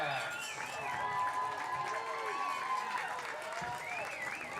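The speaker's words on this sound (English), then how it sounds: "Give a round of applause for our" Crowd in the stands at a high school football game between Lovelady and Mount Enterprise applauds and cheers. The applause sounds fairly distant and is mixed with voices and some tonal sounds.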